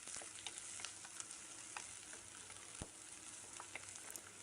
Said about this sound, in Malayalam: നല്ല പോലെ ഒന്ന് വഴറ്റി കൊടുക്കാം